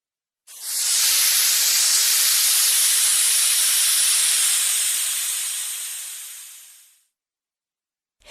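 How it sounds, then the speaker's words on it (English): A loud, steady hiss like escaping steam or spraying gas rushes for about six seconds, then gradually fades away into silence. "Hiss!"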